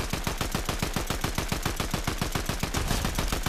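Rapid automatic gunfire in Fortnite: a fast, steady stream of loud, close shots at about eight per second, continuing without a break and with no talk over it.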